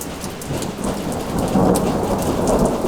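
Steady heavy rain pours down during a mountain thunderstorm, with a low rumble of thunder swelling midway, loud and continuous, no voices.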